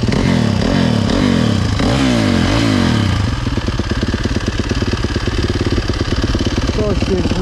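A motorcycle engine close by rumbles and revs in several rising and falling sweeps, then settles into a steady, lumpy idle with clattering, while people talk over it.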